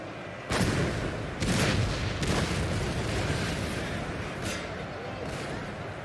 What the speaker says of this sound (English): cannons don't appear to be doing much